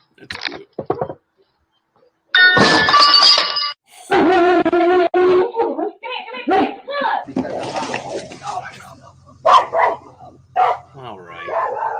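A dog barks in several loud bursts, mixed with yips and whimpering, close to the microphone, with people talking in between and a low droning hum toward the end.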